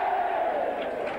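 A rugby league crowd at Elland Road roars in a sustained, dense cheer that stays loud and steady through the short stretch, with no single voice standing out.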